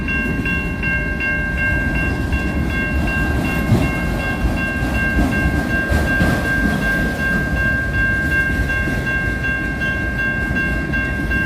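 An eastbound train rolls steadily past on the rails late at night, a loud, close, continuous rumble with a sustained high tonal whine throughout and faint rhythmic clatter, no voices.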